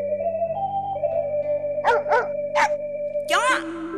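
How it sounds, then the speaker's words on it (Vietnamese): A dog barks in a Vietnamese cải lương stage play, several sharp barks in an uneven cluster over sustained instrumental music, with a voice nearby. "chó sủa mà nó không cắn đâu"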